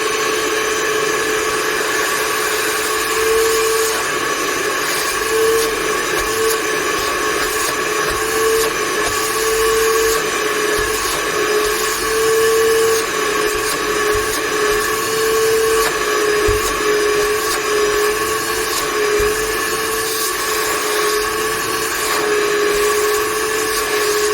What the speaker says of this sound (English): let's go to the vacuum